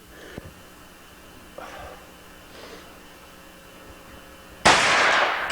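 A single sharp rifle shot fired at a shooting competition rings out near the end, loud and close after quiet breathing and small handling noises.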